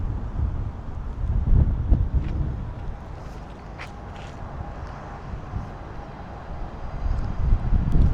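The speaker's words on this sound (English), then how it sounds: "it's a bit windy now" Wind buffets a drone's microphone in flight over Harrow & Wealdstone, London, low rumbling gusts swelling loudest near the start and again toward the end, with no voices.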